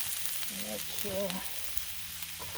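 Spatulas work a seafood boil on a hot griddle, a soft steady sizzle with light scraping, fairly quiet, while a voice speaks briefly in the middle.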